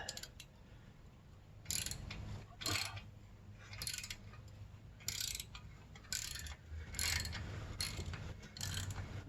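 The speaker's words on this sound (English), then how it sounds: "Let's try to loosen this one a little bit." An exhaust bolt on a 1981 Yamaha XS850 Special motorcycle is loosened with a ratchet, giving repeated short bursts of close metallic clicking in an uneven rhythm, with no speech.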